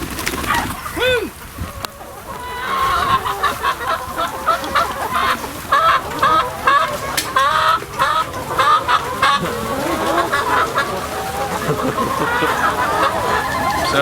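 Backyard chickens on a small farm cluck steadily and close by, with busy overlapping calls and an occasional rooster-like crow, while a person speaks faintly in the background.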